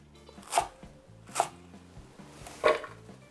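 Three sharp knife chops through garlic chives land on a cutting board, spaced about a second apart, with a low hum in the background.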